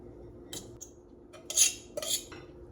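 Fork scraping and clinking through cooked, fluffed rice as it is moved into a bowl, a few light metallic scrapes and taps, close and fairly quiet.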